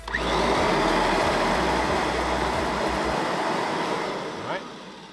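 A Kirby vacuum cleaner running steadily with its tech drive engaged, a loud continuous motor roar and airflow rush that holds nearly constant before easing slightly near the end, with no voices.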